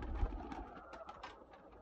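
Pet pigeons, a breeder's pair kept at home, coo softly in a few short, throaty bursts close by, with a faint bump near the start.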